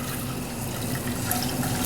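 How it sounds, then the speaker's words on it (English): Chicken broth pours steadily into a pot, a continuous close liquid rush with no pauses, heard alone without talk. "and I'm going to add some broth to it"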